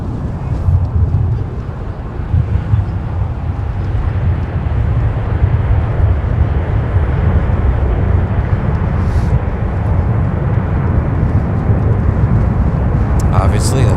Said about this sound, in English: Obviously, that's American Airlines, who's coming in from Dallas-Fort Worth